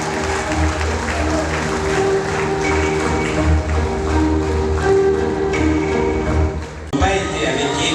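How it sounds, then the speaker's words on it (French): Wedding guests applaud the couple, a sustained crowd clapping with cheering voices layered over music, steady throughout before briefly dipping near the end. "Applaudissez une fois pour ces"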